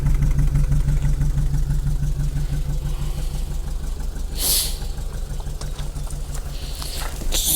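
Audi Coupe GT engine idling close by with a rev that swells briefly in the middle of the clip, then settles back to a steady idle.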